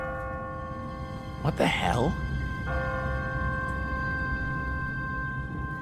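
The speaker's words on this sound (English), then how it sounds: "What kind of church bell goes off at 20 past the hour?" An automatic church bell on a timer rings in The Walking Dead video game, a sustained tolling tone with a brief voice over it and a steady ambient bed underneath.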